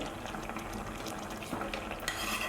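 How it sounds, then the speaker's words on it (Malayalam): Ghee is added to a boiling pot of rice payasam (kovil-style ghee payasam) and stirred, giving a steady scraping and clinking of a spoon against the pan over a soft bubbling simmer, close and continuous. "ഈ തിളക്കുന്ന സമയത്ത് ഇതിലേക്ക് ഒരു ടേബിൾ സ്പൂൺ നെയ്യ് ചേർത്ത് കൊടുക്കാം"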